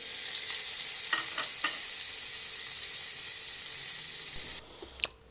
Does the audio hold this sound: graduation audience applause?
no